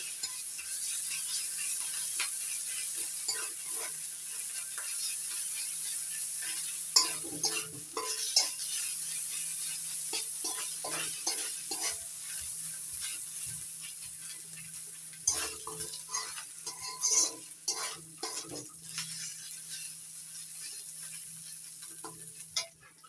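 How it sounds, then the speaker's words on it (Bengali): Ginger garlic paste fries in a pan with a soft, steady sizzle while a utensil stirs it, giving repeated scraping clatters against the metal, without any speech. "এবার দিয়ে দিচ্ছি রসুন বাটা আদা বাটা আদা রসুনটা একটু হালকা করে ভেজে নেবো"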